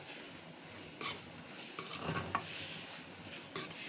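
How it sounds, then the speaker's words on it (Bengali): Onion and garlic frying in oil for a spicy mango pickle, with soft sizzling under scattered clinks and scrapes of a spoon stirring in a pan, fairly quiet and close, no talking. "এখন আমি পেঁয়াজ আর রসুনটা ভালো মতন তেলের মধ্যে ভেজে নিব।"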